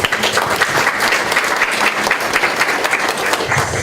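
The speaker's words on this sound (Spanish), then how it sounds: "Un aplauso para Luis Miguel." Loud, sustained applause fills an international forum on disability, a crowd clapping densely and evenly without pause and with no voices on top.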